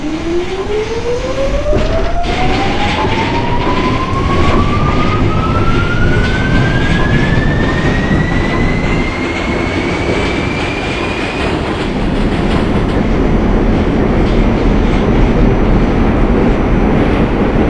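An R46 subway train running as a Queensbound A train in the OpenBVE simulator game, loud steady rumble of wheels and motors, with a rising motor whine that climbs in pitch as it accelerates before levelling off.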